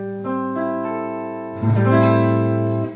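A guitar chord from a chord exercise, sixth string fretted, fifth string muted and strings four through one ringing, strummed once then struck again, sustaining clearly and close up.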